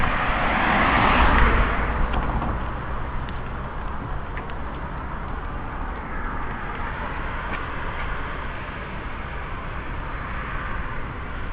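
A van passes on a coastal road near the Sea Cliff Bridge, a broad steady rush of tyre and engine noise that swells near the start and then fades into continuous traffic and wind.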